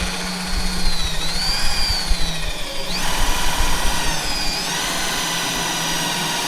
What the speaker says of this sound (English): So he's gonna drill these holes real quick.